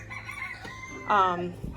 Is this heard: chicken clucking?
yes